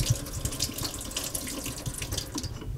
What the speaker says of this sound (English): So this just gravity feeds water down to my sink